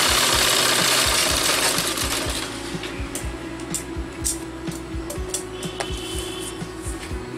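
A sewing machine stitching a Kalidar salwar, with a rapid, steady mechanical clatter of the needle running continuously at close range and no talking.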